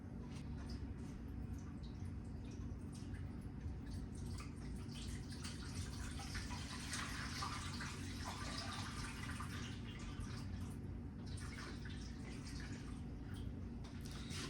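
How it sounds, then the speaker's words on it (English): Hot water from a tap filling a steam canner, a faint, continuous splashing and trickling flow with a few drip-like accents, heard alone and close by. "So I am going to put hot water in here because the manual doesn't say you have to start with cold"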